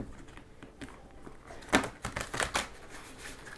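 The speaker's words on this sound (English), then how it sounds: "So I'll shuffle again." Quick flurries of papery clicks and riffles from tarot cards being shuffled by hand, close up, with a louder burst midway through.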